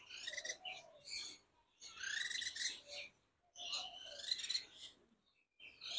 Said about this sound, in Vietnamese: Còn đây là hai em manh manh.